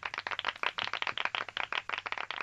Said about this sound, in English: I'm gonna insert fake applause music now.